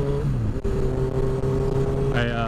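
A motorcycle engine hums steadily while riding, its pitch shifting slightly as revs change, close and fairly loud.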